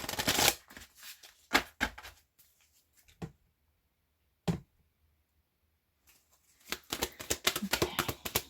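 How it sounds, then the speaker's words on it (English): Oracle cards are shuffled up close in crisp, riffling bursts and slaps, broken by a quiet pause before a final flurry of shuffling. "This one is a little bit difficult to shuffle."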